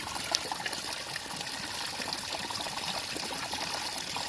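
A water stream trickling through a natural setting, making a steady, gentle babbling flow that stays even throughout, with no voices.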